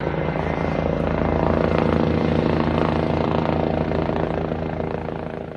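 Rescue helicopter hovering over a mountain rescue with a winch near Tizzano Val Parma, a loud, steady rotor and engine drone that holds close and unbroken throughout, with no voices.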